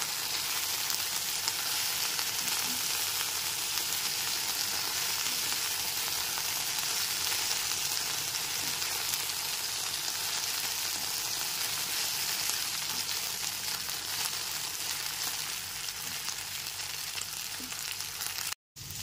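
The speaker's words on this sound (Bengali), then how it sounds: "ভেন্ডিগুলো এখানে হালকা লাল করে ভেজে নিয়েছি।" Okra frying in a pan with salt and turmeric, a steady, even sizzle that holds close and loud throughout, cutting off abruptly at the very end.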